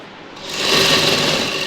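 A sewing machine speeds up after a brief start and then runs in a steady, close, continuous whir while stitching the side seam of a housecoat.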